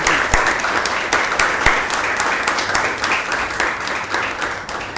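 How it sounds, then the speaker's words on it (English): Sustained audience applause for a CAT 2023 topper, dense continuous clapping with a few sharp individual claps standing out, steady and fairly close throughout. "a big round of applause"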